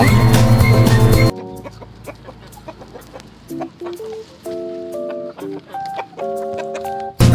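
Backyard chickens cluck and squawk in short, scattered bursts, some close and loud, with a brief burst of louder noise at the start.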